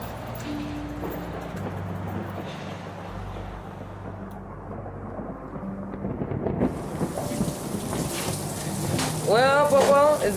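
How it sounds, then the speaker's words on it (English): Low thunder rumbles through a stormy outdoor scene, mixed with rain-like hiss and background noise, building toward the end with no clear talk. "I hear some thunder"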